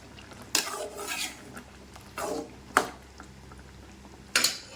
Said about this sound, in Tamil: நம்ம வேக வச்ச பருப்பை சேர்த்து சேர்த்து நல்லா கலக்கி விட்டுட்டு